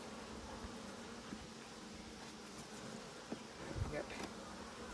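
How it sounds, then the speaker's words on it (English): Honeybees at a hive in a beeyard on a windy day: a steady, faint, continuous buzzing drone of many bees, with a few soft handling knocks and rustles near the hive partway through. "Bees are somewhat calm right now, which is unusual because it's kind of a windy day."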